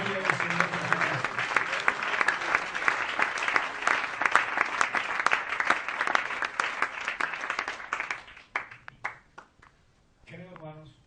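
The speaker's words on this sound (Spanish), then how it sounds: "Denle un aplauso para la gloria del Señor Jesucristo." A church congregation at a missionary camp breaks into loud, sustained applause lasting around eight seconds, dense overlapping claps that thin out into scattered final claps, followed by a voice starting to speak.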